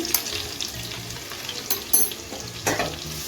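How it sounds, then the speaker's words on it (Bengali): Shrimp coated in salt and turmeric fry in a pan with a close, continuous sizzle, broken by a few sharp spatula scrapes and stirring clatters. "এখন আমি আগে দিয়ে নুন হলুদ মাখানো চিংড়ি মাছটা দিয়ে দিচ্ছি"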